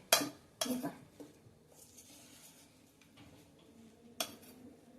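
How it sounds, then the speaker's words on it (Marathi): A spoon scrapes and clanks inside a pot while raw mango pieces and salt are mixed, giving a few sharp knocks and a steady grainy rustle close by. "थोडंसं कैरी आणि मीठ हे आधी व्यवस्थित ह्यात मिक्स करून घ्यायचंय."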